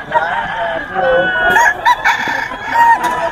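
At a crowded poultry market selling fighting cocks, roosters crow close by in overlapping calls. A faint voice is heard in the background.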